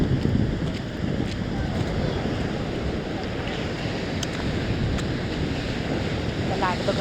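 Large ocean waves wash continuously onto the shore at Harihareshwar beach, a broad roaring surf mixed with heavy wind buffeting the microphone, loud and close throughout.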